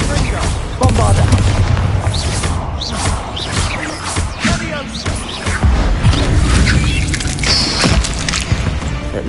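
Bombarda spell explosion in Hogwarts Legacy inside a tomb, a loud dense blast with crashing debris and rumbling that fills the clip, mixed with game music and effects.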